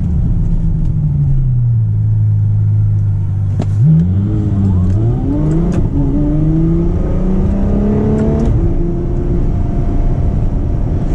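A Ferrari F12 V12 engine drones low, then revs up through rising gear pulls with a deep, loud roar, shifting and climbing in pitch.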